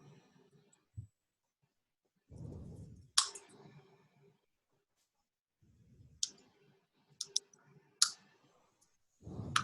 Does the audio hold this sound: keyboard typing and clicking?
yes